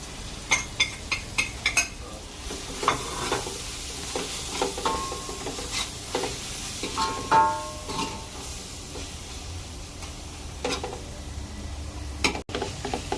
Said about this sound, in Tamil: மசாலா வதக்கிறப்ப தீயை கொஞ்சம் கம்மி பண்ணிக்கணும்